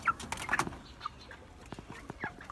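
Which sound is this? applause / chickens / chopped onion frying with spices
chickens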